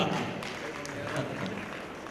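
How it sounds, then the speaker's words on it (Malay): Applause from the audience at a poetry reading night held for a Malaysian writers' summit: a steady, dense wash of clapping that fills the whole moment at a moderate level, mixed with crowd murmur. "Tepukan untuk Datuk."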